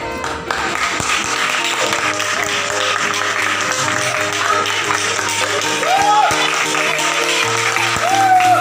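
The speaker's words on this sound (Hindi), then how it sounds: "सब लोग अपनी अपनी सीट पे खड़े होकर जोरदार जबरदस्त तालियों के साथ स्वागत करेंगे मिस्टर रंजीत सर" Loud applause from a standing audience welcoming the presenter at a direct-selling business event: sustained clapping throughout, with steady music and sustained tones playing underneath.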